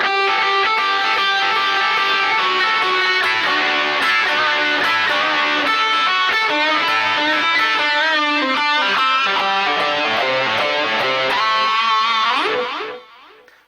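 Distorted electric guitar soloing in A with effects, playing a dense, continuous run of fast notes throughout before cutting off sharply near the end; no talking.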